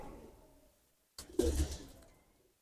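Old teddy breed pigeons give a short, soft burst of cooing after a near-silent start, close by and faint, with the low throaty pulse fading quickly.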